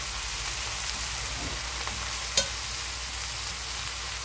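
Potatoes and aubergine frying in a pan, giving a steady, fairly loud hiss and sizzle with a brief clink midway, heard alone without speech.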